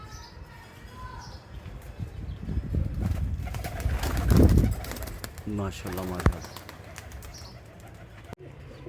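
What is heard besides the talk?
pigeons cooing in a pigeon loft in Lahore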